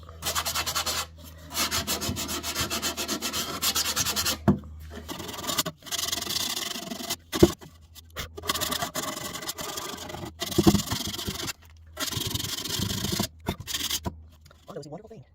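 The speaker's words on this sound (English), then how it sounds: "Again, I'm using a 120 sandpaper." Sandpaper of 120 grit rubbed by hand over wood on a Jacobean buffet part, steady close scratchy strokes in repeated bursts with short pauses between them, occasional knocks and a low hum underneath.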